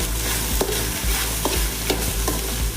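Okra fries in oil in a pan, a steady dense sizzle with repeated scraping stirs roughly every half second, close and even throughout, no voices.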